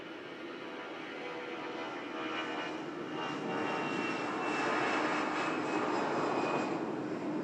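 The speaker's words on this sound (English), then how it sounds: "We'll get a glimpse of the Etihad as this aircraft departs." An Etihad Airbus A380 departs Manchester Airport, its jet engines a broad continuous roar heard from a distance that swells gradually louder as the aircraft climbs away.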